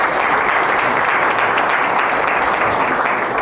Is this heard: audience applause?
yes